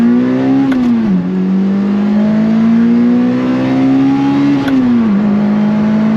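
A 2005 Lotus Elise accelerates hard on a track, its engine note climbing steadily through the gears with two quick drops at upshifts, loud and close throughout with no talking.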